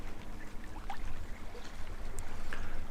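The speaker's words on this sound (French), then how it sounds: "Vous écoutez le bruit des vagues, le doux sac et le ressac," Gentle sea waves lap and wash continuously on a secluded beach, a soft, steady water murmur with light splashes, close and moderately quiet, with no voices.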